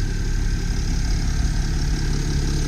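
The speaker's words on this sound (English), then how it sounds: "Engine's nice and quiet." A 2010 Mercedes ML300 CDI 3.0 V6 diesel idles steadily with an even, smooth rumble and a constant hum, recorded close and at a fairly loud level, with no speech.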